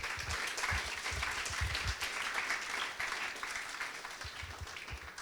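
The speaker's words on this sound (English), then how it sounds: "Please give her a loud round of applause." Audience applause follows a question at a talk show, a steady, moderately faint patter of many hands clapping that carries on throughout with a few low thumps.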